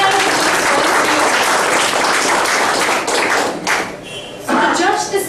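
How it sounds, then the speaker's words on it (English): Applause from an audience at a Toastmasters contest, a loud, dense stretch of clapping that thins out and dips before a final few claps. "Please give a big round of applause"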